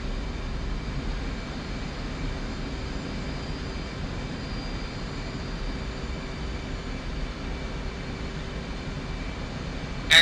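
An F/A-18 jet flies in the DCS World simulator, its engine holding a steady, even cockpit drone with a constant faint whine and no change in pitch, followed by a short burst at the very end.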